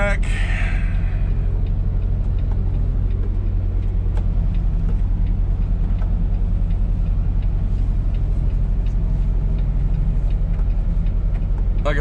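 A semi truck eases backward under a trailer at a drop-and-hook, its engine a steady low rumble that holds close and even throughout, with a brief hiss or air release near the start.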